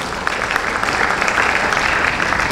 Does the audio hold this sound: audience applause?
yes